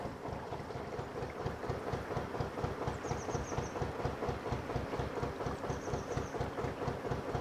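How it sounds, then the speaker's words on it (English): A steam train runs on the Battlefield steam railway line beyond the trees, a faint, distant, steady rhythmic chugging and clatter with a few soft high whistling tones. "And through the trees there is the battlefield steam railway line."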